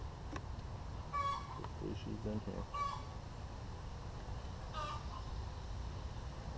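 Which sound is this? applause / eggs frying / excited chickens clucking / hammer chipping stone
excited chickens clucking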